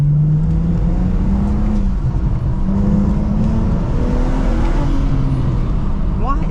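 A drift car's engine drones and revs steadily up close, the pitch rising and falling in slow sweeps under a constant loud roar, with a person talking over it.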